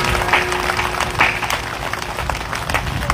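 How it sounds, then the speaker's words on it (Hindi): Audience applause from a crowd at a talk, steady clapping sustained throughout with scattered loud claps, fairly close and continuous. "ताली बजाओ बढ़िया रे"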